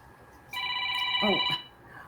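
A telephone rings during a live stream: one burst of bright electronic ringing, fairly close and loud, lasting about a second, with a brief voice sound partway through.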